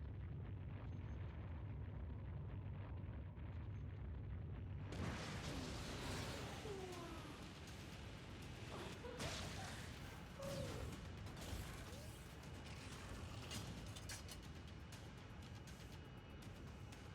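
Mech combat in the side-scrolling game MO: Astray, with continuous mechanical rumbling, repeated booming blasts and popping shots running densely throughout, no voices.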